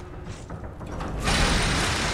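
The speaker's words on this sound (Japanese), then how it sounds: "扉を開く。" A heavy door-unlocking mechanism in the dark fantasy game Lies of P, at the Krat Central Station front entrance. Close, grinding mechanical clicks and ratcheting build, then swell into a louder, sustained rumble as the door opens.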